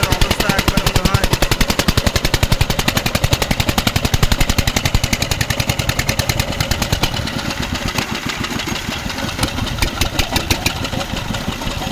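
A hopper machine engine drives a water pump, its fast, steady mechanical chugging running loud and close throughout, and the pulsing loosens a little toward the end.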